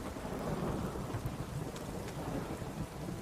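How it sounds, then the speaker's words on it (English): A heavy downpour in The Witcher 3 pours down steadily with rolling thunder rumbling underneath, dense and continuous throughout, with no voices. "This downpour's a bastard, it is."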